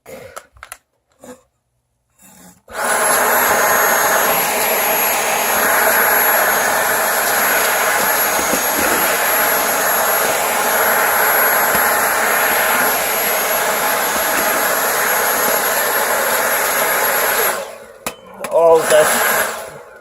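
A Dyson V8 cordless vacuum cleaner, run with the bare pipe and no head, sucks up string and small cardboard scraps from a crafts project. A loud, steady whine starts after a few seconds, holds for about fifteen seconds, then cuts off with a few short bursts.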